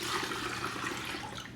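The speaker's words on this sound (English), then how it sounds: "Okay, so I'm gonna pour the brine out," Brine from pork chops being poured out into a sink, a steady rush of water lasting the whole moment, close and fairly loud.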